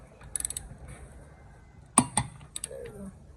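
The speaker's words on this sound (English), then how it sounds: "we're gonna torque this down at 25 foot-pounds" A torque wrench tightens a rear brake caliper bolt to 25 foot-pounds on a Toyota Sienna 3.5, with a few quick ratcheting clicks, then a sharp clack as it reaches torque, followed by smaller metallic taps.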